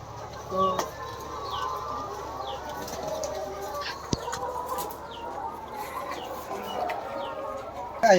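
Layer hens in a poultry farm shed, a continuous flock murmur of clucks and bird calls with occasional wing flaps, steady at moderate level with no talk.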